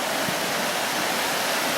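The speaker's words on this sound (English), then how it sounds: "at the Findhu Glen burn, which has receded quite a lot since Wednesday" A Highland burn flowing through Findhu Glen, water levels receded: a steady, dense rush of running water, constant and fairly loud, with no voices.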